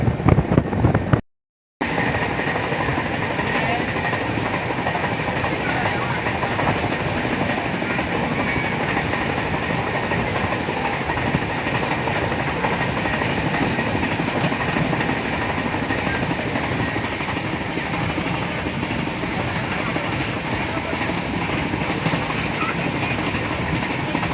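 Inside the 12651 Tamil Nadu Sampark Kranti superfast express travelling from Chennai, a steady loud rumble of the moving train carries on throughout, with rattling carriage noise after a brief cut near the start.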